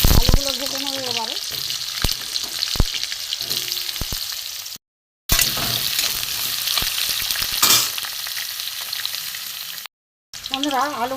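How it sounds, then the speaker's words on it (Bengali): Potatoes fry in hot oil in a home kitchen, a loud continuous sizzle broken by stirring scrapes and utensil clinks, with two short silent gaps. "আলুগুলো ভেজে নেবো এবারে।"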